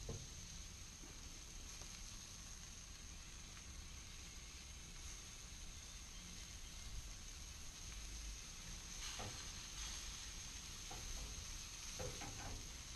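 Kielbasa sausages sizzle steadily in a frying pan, a constant close hiss throughout, with occasional soft scrapes and clicks as the pieces are stirred and turned.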